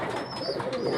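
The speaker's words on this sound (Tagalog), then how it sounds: "Apat lang mga kalapatids nakabalik sa atin." Racing pigeons back at their loft in San Rafael, Bulacan give a short, soft burst of close cooing after a training flight.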